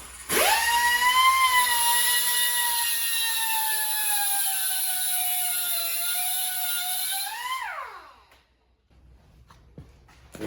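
A grinder whines steadily at high pitch while grinding back a metal part on a junk go-kart being restored, running loud and close for about eight seconds before spinning down, followed by near quiet.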